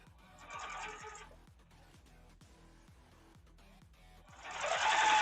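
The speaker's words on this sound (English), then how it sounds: "Just sewing stuff together." A sewing machine stitches cotton quilt blocks in short, rapid bursts of needle clatter, close and fairly quiet, with brief pauses between runs and no talking.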